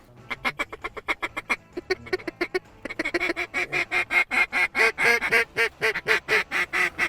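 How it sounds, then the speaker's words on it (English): Pintail and mallard ducks flying overhead over flooded wheat give a rapid run of loud, close quacks that grow denser and stronger as the birds pass. "They're pintails, so just one. No, that's 3 mallards in front of me."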